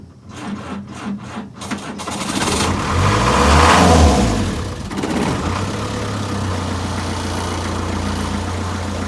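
A Land Rover Series 2A with a 2.25 diesel engine cranks with a few starter bursts, fires up, revs in a swelling roar, then settles into a steady close idle.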